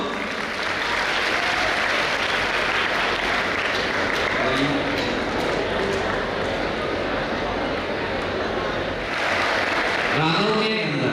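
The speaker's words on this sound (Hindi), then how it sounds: "मेडल के लिए तालियां बजाएं जाए हम लोग।" An audience at a student merit award function applauds a medal winner, producing dense, sustained clapping that fills the hall from start to finish, with a voice briefly rising over it near the end.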